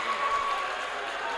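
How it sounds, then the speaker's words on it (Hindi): A live audience at a poetry gathering applauds steadily, a dense wash of clapping that holds evenly for the whole moment without a break. "एक बार आपकी जोरदार तालियां चाहता हूं भाई"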